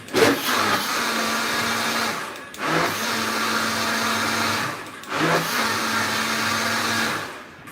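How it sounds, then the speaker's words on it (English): A blender whirs loudly in three short bursts of about two seconds each, with brief pauses between pulses. "my blender, you know, it only pulses"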